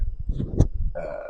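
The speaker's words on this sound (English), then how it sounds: "I think I burped 3 times right now." Burping sounds close up, with several short guttural belches in quick succession, then a brief voiced tail at the end.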